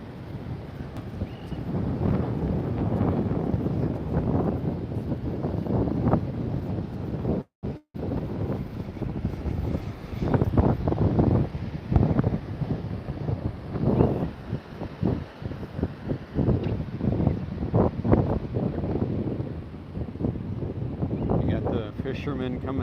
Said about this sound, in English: Now it's pretty windy.